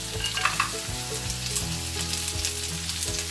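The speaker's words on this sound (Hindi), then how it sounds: "प्याज को हल्का सा फ्राई करेंगे और इसी के साथ हम अपने डाल देंगे काजू, अदरक लहसुन और हरी मिर्चें" Busy, crackling sizzle of onions, cashews, ginger, garlic and green chillies frying in hot oil, with soft stirring scrapes, continuous and fairly close, no voices.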